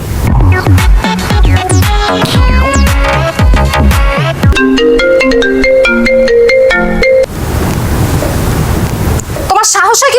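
A mobile phone ringtone plays loudly, a bright repeating electronic melody that rings on unanswered, then cuts to a rushing windy hiss and a brief voice at the end.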